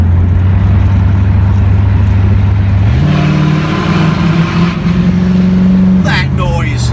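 A Corvette C3 engine runs loud and close, its low rumbling idle stepping up in pitch as it revs, then settling back, with a rising whine near the end.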